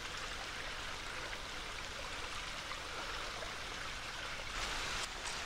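Spring water pours out of the ground near an old mine entrance, a soft, steady trickling and splashing that is faint and continuous, with a slight swell near the end.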